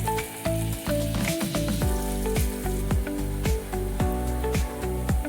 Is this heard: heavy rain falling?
no